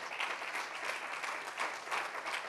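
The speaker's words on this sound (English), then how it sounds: "Let's just clap and give God some praise," Church congregation clapping hands during a Sunday service, a soft, steady stream of many hands heard at some distance.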